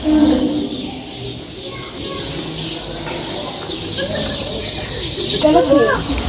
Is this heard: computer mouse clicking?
no